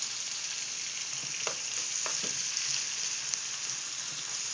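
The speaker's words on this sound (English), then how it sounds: "We're going to saute this." Vegetables sauté in a hot pan for crawfish étouffée, giving a steady close sizzle and crackle with a few faint stirring taps, no voices over it.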